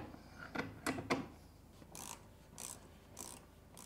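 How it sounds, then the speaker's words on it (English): A ratchet socket wrench works on mounting bolts for a golf cart motor controller, giving short bursts of ratcheting clicks spaced apart, close but quiet, with light rubbing of metal between strokes. "You can either use a 5/16 socket or 8 millimeter to use to mount the controller to the adapter plate."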